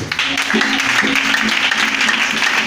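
Congregation clapping in a church during lively worship, a dense continuous wash of applause, loud and steady throughout, with voices and singing mixed underneath.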